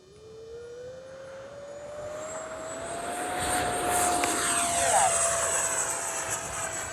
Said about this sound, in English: Take this F-16 up and have some fun with her.